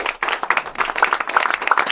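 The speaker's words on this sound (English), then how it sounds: "I'd like them to stand up and give a round of applause" An audience claps in applause at a talk about the NFL, a dense close patter of many hands that keeps going for the whole stretch.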